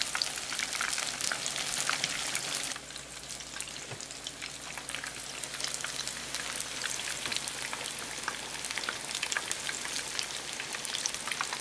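Steady crackling sizzle of tempura frying in hot oil, dense and continuous throughout, with no voices.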